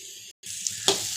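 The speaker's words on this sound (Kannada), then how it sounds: "ಇದು ಫುಲ್ಲು ಫ್ರೈ ಆಗಿದೆ." Food frying in a pan with a steady close sizzle, briefly cutting out for a moment, then resuming with a couple of sharper pops and a stir or scrape near the end.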